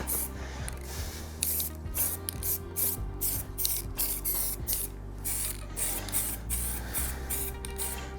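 Spray paint hisses in repeated short bursts over a steady mechanical hum as a coat goes onto a part for a Mini Cooper build, close and fairly loud.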